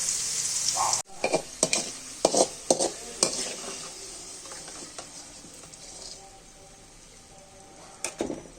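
Soursop pieces fry in oil with a constant sizzle, broken at first by a quick run of clattering stirs and scrapes against the pan, then settling into a steadier, quieter hiss.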